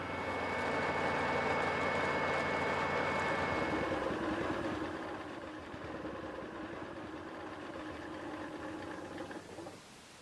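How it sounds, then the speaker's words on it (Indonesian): A motorized coffee grinding machine in the village of Longloreh grinds coffee into powder, a loud steady mechanical whir with a whining hum that drops to a rougher, lower churn partway through and then stops near the end. "Proses penghalusan kopi di Desa Longloreh sudah mengenal mesin penggilingan yang lebih mudah dan praktis dibanding menumbuk kopi."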